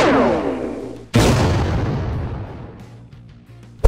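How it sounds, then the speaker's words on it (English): A gun firing in the Minecraft video game: a loud blast that fades out slowly, cut off by a sharper second explosion that decays over several seconds, then a quieter pop at the end. "I think the gun should be fully loaded and everything should be working on it now."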